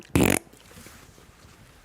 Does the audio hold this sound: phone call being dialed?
no